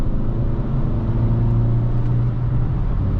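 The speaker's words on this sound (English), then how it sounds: "And now we're going for a little highway drive." A Fiat 500 1.2 Dualogic Sport with the 69 hp engine cruises on a highway, giving a steady low engine and road drone inside the cabin with no talking.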